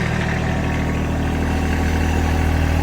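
Gravely AXIS 200DT tracked mini skid steer engine running at a steady, fairly quiet idle just after starting, a continuous low rumble with no other sounds.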